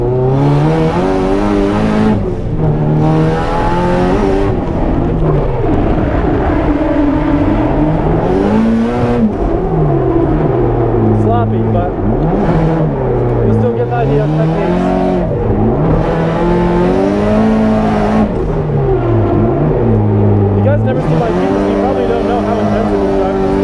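A drift car driven hard on a track, its engine revving high and dropping repeatedly through short lifts and surges, loud and close throughout.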